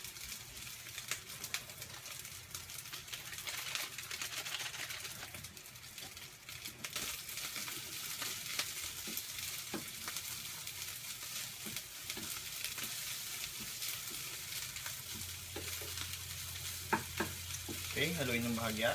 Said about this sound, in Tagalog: haluin ng bahagya hanggang sa magsama-sama ang lahat ng ingredients na nilagay nyo